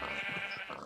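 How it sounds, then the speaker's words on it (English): A baby sheep bleats once in Minecraft with the TerraFirmaCraft mod, a short, close, wavering cry lasting under a second. "a boy and a girl baby sheep."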